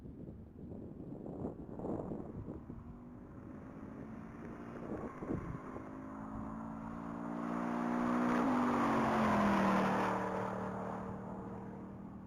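A 2026 Chevrolet Camaro SS accelerating down the mile track at the Texas Mile, engine building from a distant rumble to a louder, rising drone over steady wind noise, with no one talking.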